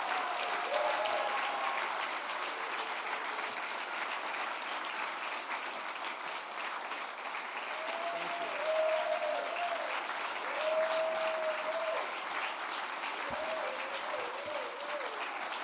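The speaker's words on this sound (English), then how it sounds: "let's give him a huge Fauci ouchie round of applause." Audience applause at a National Press Club presidential inauguration, steady sustained clapping from a large crowd with faint voices mixed in throughout.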